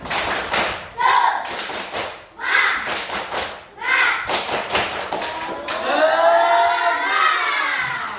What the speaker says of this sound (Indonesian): Bapak mempunyai ini namanya tepuk semangat.